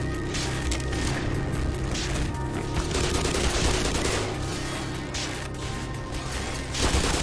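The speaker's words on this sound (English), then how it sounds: "I am under heavy fire." Dense, continuous gunfire with bursts and explosions in the Black Mesa video game, loud and sustained throughout with no pauses and a mechanical clatter underneath.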